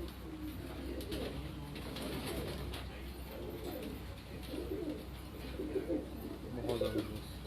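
Pigeons coo in soft, low, repeated rolling calls, somewhat distant, while people talk over them in the background.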